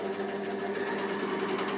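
A Bernina L450 overlocker serger stitches at a steady, fast, even rhythm, its close mechanical whir continuing without a break.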